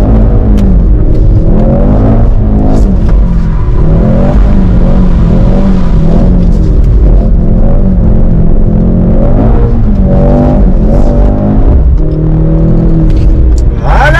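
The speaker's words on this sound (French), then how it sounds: "il est temps de tester ce mode drift" A Mercedes C63s with a four-cylinder engine drifting in drift mode on a damp surface, loud close engine revving that rises and falls continuously with wheel and tyre noise.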